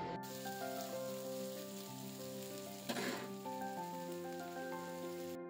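Onion, green chilli and garlic fry in a pan in little oil, giving a steady close sizzle with a brief burst of louder crackle midway, while faint steady tones run underneath.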